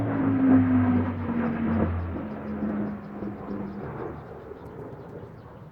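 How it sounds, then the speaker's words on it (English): An aeroplane passes overhead as a broad, steady rumble with a droning low hum, loudest early and slowly fading over several seconds, with no talk. "let's just wait for the aeroplane"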